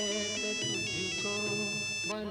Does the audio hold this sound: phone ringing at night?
yes